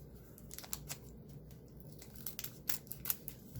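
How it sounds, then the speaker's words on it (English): Metal snips cut into a pop culture trading card wax pack, giving a few quick, close snipping clicks mixed with soft crinkling of the waxed wrapper. "I have to snip again."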